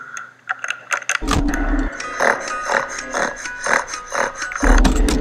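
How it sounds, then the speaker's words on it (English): Winding the music box in Five Nights at Freddy's 2 gives a series of rapid clicking, ratcheting bursts in uneven rhythm, close and fairly loud. "it's to wind up the music box"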